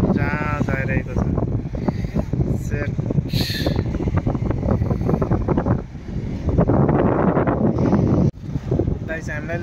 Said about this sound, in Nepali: हावा दह्रो चलिरहेको छ यहाँ